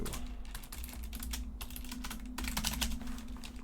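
Fingers type on a computer keyboard in quick irregular bursts of clicky keystrokes, close and fairly quiet over a low steady hum, with no one talking.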